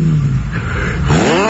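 A Tofaş Şahin car with an exaggerated modified exhaust revs loudly and close, its engine note rising and falling in two surges over a throaty drone.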